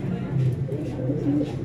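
A breeder flying pigeon coos softly in low, throaty murmurs, close by, with a faint steady background hum.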